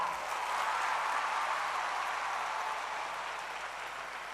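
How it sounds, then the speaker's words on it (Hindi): A large audience gives sustained, dense applause for the daughters at the K.I.S.S. Humanitarian Award ceremony, where Nita Ambani is speaking. It forms a steady, loud wash that eases slightly toward the end, with no voices standing out. "हमारी प्यारी बेटियों के लिए एक बार और जोरदार तालियां।"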